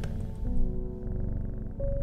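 Hellebore, a cat in the video game Strange Horticulture, purrs with a soft, steady, low pulsing rumble beneath sustained game music tones.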